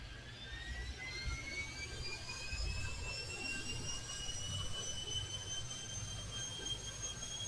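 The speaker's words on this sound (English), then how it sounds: "I'm going to watch one of these planes take off once" Jet airliner taking off in Airport Madness 3D at Toronto, a steady whining turbine roar with rising high tones over a low rumble, sustained and moderately loud throughout, no talk.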